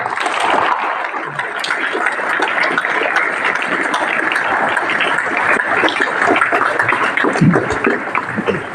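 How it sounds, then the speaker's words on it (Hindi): Students at Jawahar Navodaya Vidyalaya Loni in Burhanpur, Madhya Pradesh, clap loudly together, a dense sustained burst of applause that fills the whole span with a few faint voices mixed in. "एक बार जोर से तालियां बज जाए पर"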